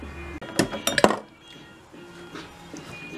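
Hot glass bottle plunged into cold water during bottleneck slide cutting, giving a cluster of sharp clinks and cracks near the start, then a faint quieter hiss and small ticks.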